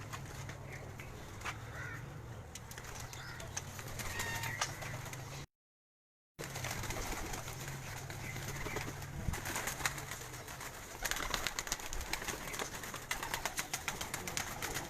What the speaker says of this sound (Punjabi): ਉਸਤਾਦ ਰਾਜਾ ਇਫਤਿਖਾਰ ਕਾਕਾ ਸਾਹਿਬ ਜੀ ਸ਼ੌਕ ਕਰ ਰਹੇ ਨੇ ਜੀ ਕਬੂਤਰਾਂ ਦਾ ਜੀ